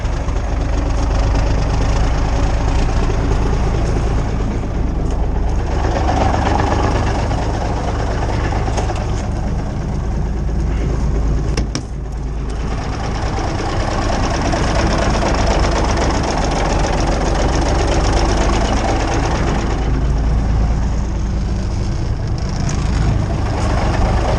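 A Kenworth truck's diesel engine idles steadily after a cold start, a loud, continuous low rumble close by that runs unbroken throughout.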